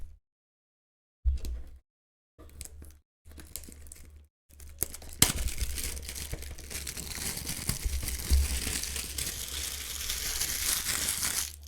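Plastic packaging of a computer mouse being pulled open and crinkled, starting with short bursts separated by silence and then becoming a steady, close-up crumpling and crackling that lasts to the end.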